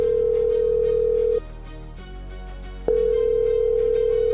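A telephone ringback tone sounds while calling a registration office, a steady electronic beep held for over a second, a pause with low hum, then the tone resumes.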